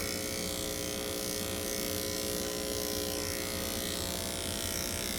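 An electric shaver used to groom a Shih Tzu hums in a steady, close, continuous buzz that holds at an even level throughout.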